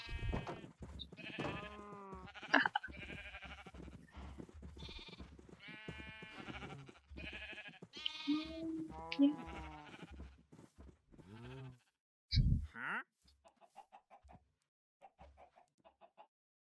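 Sheep bleating in the Minecraft video game, a series of wavering calls mixed with clucking farm sounds, followed by quieter scattered blips near the end.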